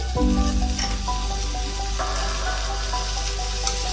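Ground cumin paste, stone-ground, hitting potatoes frying in oil in a pan for fish curry, a loud close sizzle with stirring scrapes and clinks, no voices.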